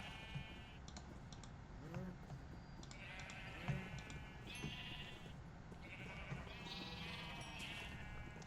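Blocky sheep in the video game Minecraft bleating repeatedly over a steady hiss, with several overlapping bleats and soft keyboard-like clicking throughout, moderately loud and close.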